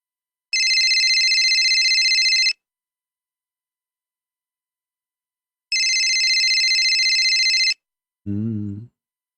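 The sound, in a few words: cell phone ringtone playing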